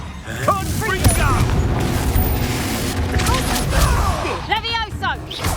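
Confringo blasting curses explode in a Hogwarts Legacy battle, with booming blasts and crackling bursts layered in a loud, dense fight mix where voices also shout.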